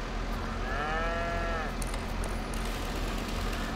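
A dairy cow in Farming Simulator 22 lets out one drawn-out moo with a wavering pitch over steady farm machinery hum, near and clear, fading after about a second.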